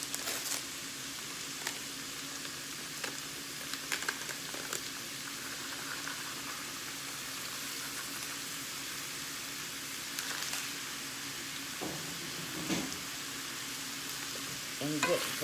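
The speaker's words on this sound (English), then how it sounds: "get this where your mushrooms are sauteed." Mushrooms and hamburger sauté with Lipton soup mix in a pan, giving a soft, steady sizzle and bubble with occasional stirring clinks, heard alone without talk.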